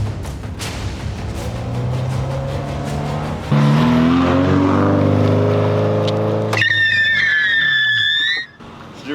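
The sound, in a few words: car drifting toward camera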